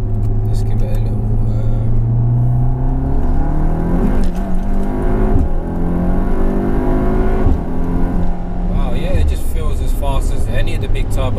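A 560bhp 2.0-litre turbocharged all-wheel-drive Skoda Superb accelerating hard, the engine note climbing steadily through quick gear changes, loud and close from inside the car, with someone talking over it.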